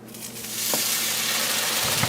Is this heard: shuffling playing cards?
no